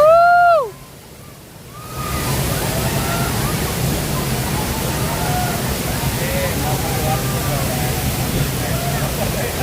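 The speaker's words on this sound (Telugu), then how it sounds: "చూడండి మెయిన్ ఫాల్స్ దగ్గరికి వచ్చేసాము." The Hogenakkal waterfall roars as a dense, steady rush of water that fills the scene from about two seconds on, after a brief tonal voice at the start. Faint voices seem to sit under the roar.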